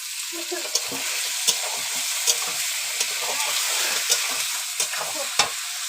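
Meat cooking in a pan, an even, bright sizzle with rhythmic stirring scrapes and regular spoon taps on the pan about every second, close and loud, without talk.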